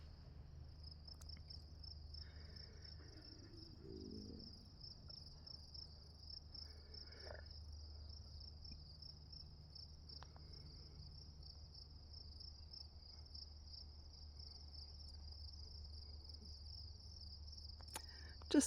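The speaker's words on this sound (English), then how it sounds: "The crickets are singing the song of their peoples." Crickets chirp in a constant, high-pitched trill, faint and steady throughout, with a low outdoor hum and a few soft rustles underneath.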